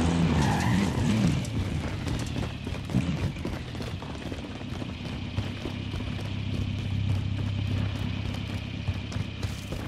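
Vehicle engine and tires rumbling steadily in Call of Duty: Modern Warfare on Rebirth Island, with skidding and squealing over rough ground and gunfire-like crackle in the background, loud and continuous throughout.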